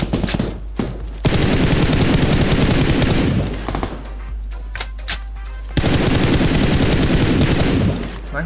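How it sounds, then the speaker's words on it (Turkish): Gunfire in the PUBG Mobile video game, loud bursts of automatic shots in two long volleys with a brief quieter gap between them, close and dominant. "Nereden sıktı adam bana?"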